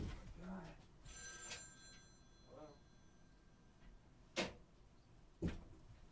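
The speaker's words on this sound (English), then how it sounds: "Hold on, let me go ahead and answer that phone." A telephone rings indoors, two shrill bell bursts near the start, then quieter sounds of movement and a couple of sharp knocks or clicks as someone goes to answer it.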